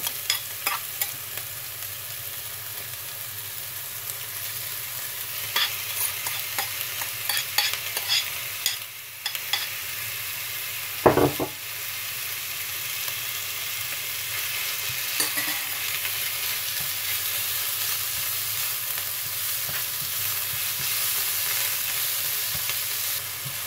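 Ground beef sizzles steadily in a hot pan while a utensil stirs and scrapes it, with a constant frying hiss and occasional louder knocks, no talking.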